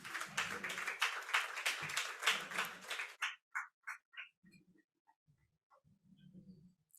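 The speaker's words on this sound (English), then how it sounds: "A big round of applause for them, everyone." An audience at a partnership celebration event in Mumbai applauds in a dense burst for about three seconds, then the clapping thins to scattered single claps that fade out.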